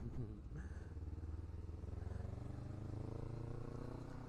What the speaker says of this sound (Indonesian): Naik motor ini suaranya berisik tapi nyenengin.